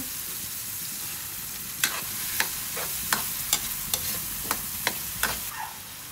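Shrimp frying in a pan of sautéed tomato, a steady close sizzle punctuated by regular spatula knocks and scrapes about every half second, no talking.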